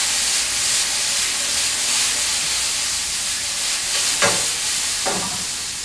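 Chicken tossed and fried in a wok gives a loud, continuous hiss and sizzle, broken by a couple of scraping stir-tosses near the end, with no voices.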